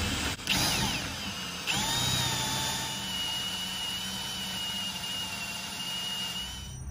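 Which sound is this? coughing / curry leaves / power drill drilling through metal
power drill drilling through metal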